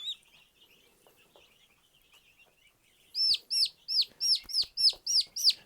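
Chickens in a chicken room cluck in a quick series of loud calls after a few seconds of faint, quiet chirping and rustling.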